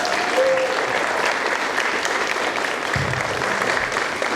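An audience claps for a speaker at an event, dense steady applause throughout with a short high tone near the start and a faint voice in the background.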